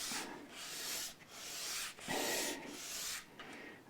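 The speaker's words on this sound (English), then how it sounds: "the first thing I'm going to do is sand this against its face" A wooden part from a Gibson ES-335 guitar is rubbed flat against sandpaper, making close, gritty back-and-forth scrapes in several strokes with short pauses between them.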